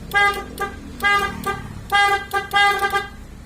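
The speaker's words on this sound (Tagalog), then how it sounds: "pag nagbusina ako" A car horn with only one of its horns working honks in four short bursts, each a bright buzzy tone, with brief gaps between them; close and fairly loud.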